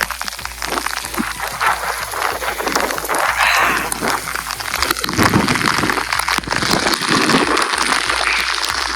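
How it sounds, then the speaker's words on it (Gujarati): Heavy rain pours down in a dense, steady hiss close by, a continuous wash of drops striking surfaces with no voices. "કઈ બતાતું નથી ફૂલ વરસાદ છે"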